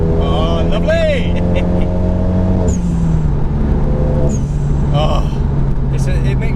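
A Renault Megane RS 250 Cup Lux Edition sports car engine, 310 bhp, pulls hard under acceleration, its tone climbing between gear changes, with brief bursts of speech over the roar.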